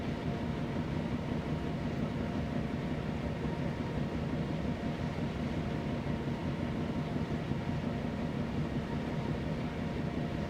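Diesel locomotive from Train Sim World 2's Great Western diesel legends, shunting with a steady low engine drone and rumble that continues unbroken and fairly loud throughout, with no voices.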